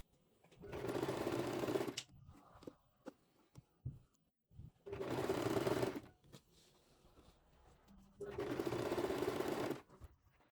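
A sewing machine stitches close to a folded fabric edge about 1 cm deep while making an elegant blouse, running in three steady bursts of rapid, loud stitching with short pauses and faint handling noises between them.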